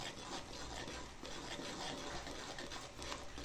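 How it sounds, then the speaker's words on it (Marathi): A spoon stirs a methi zunka mixture of gram flour and fenugreek in a pan, a close, continuous scraping and rubbing with slight rhythmic strokes. "हे असं हलवत राहायचं, नाहीतर गुटाळ्या होत्यात."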